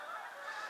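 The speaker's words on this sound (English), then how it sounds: "Some geese going over right now. I don't know if you can hear that or not. But Canadian geese." Canada geese honking as they fly overhead, a dense, continuous chorus of nasal calls that stays fairly far off and steady for a short stretch.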